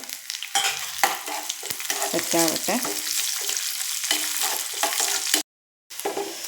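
Cashews and raisins fry in ghee with a dense, crackling sizzle and stirring scrapes, a brief spoken word near the end, and the sound cuts out for a moment.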